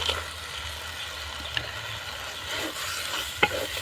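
Fried crab being stir-fried with spice paste for a spicy crab curry, a steady close sizzle with scraping stirs and a sharp clink near the end, no talking.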